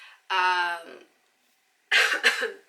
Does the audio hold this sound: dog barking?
no